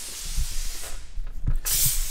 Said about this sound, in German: Macht jetzt quasi gerade die Türverkleidung und innen einmal so ein bisschen mit dem Dampfreiniger nochmal.